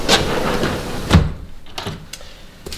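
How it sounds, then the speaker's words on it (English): A door at a home undergoing remodeling is opened and used, giving a few close, distinct knocks and clunks spaced across a couple of seconds over a soft background hiss. "So this door we've talked a lot about."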